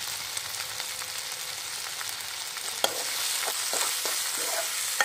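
Matar paneer masala with turmeric being sautéed in a pan, a continuous close hiss of frying with occasional soft scrapes and taps of a stirring spoon, no voices.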